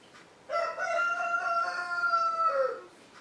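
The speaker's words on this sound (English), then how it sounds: "Hope you enjoy the roosters." Several roosters crow in a single long, loud, ringing call near the listener, rising and holding before trailing off, with quiet background before and after and no talking.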